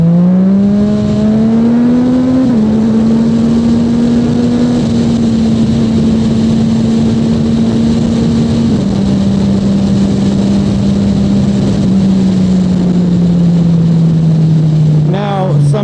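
A Yamaha FZ-09 motorcycle engine drones loudly and steadily at high revs while riding, holding near the red line with small pitch steps and no real shift, wind noise close and constant throughout.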